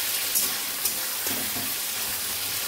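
Prawns frying in a pan, giving a steady, fairly loud hiss and sizzle with small crackles throughout.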